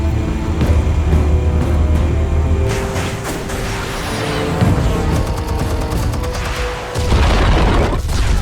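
A loud explosion in Batman: The Telltale Series, heavy booming blasts and crackling debris sustained over several seconds, with a deep thump near the end, no talking.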